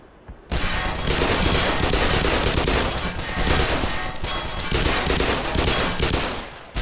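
Heavy .50 caliber machine gun fire in the shooter game Black Mesa, a long unbroken stream of rapid, punchy shots starting abruptly and hammering on loudly for several seconds.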